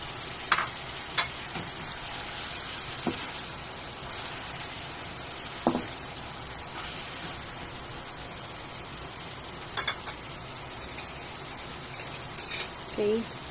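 Liver frying in a pan for chop suey, a steady bright sizzle throughout with occasional clacks of a utensil stirring against the pan and brief bits of talk.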